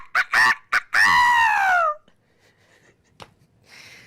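A person vocally imitates a rooster's cock-a-doodle-doo crow, a few short clipped syllables followed by a long drawn-out rising and falling call, loud and close, then near silence with faint background rustle.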